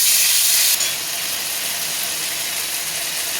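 Radhuni seeds and dried chillies hit hot oil for a bitter gourd and potato sukto. They give a loud, steady hiss that is sharpest in the first moment and then settles into an even, continuous sizzle, with no voices.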